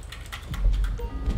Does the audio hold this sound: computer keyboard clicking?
yes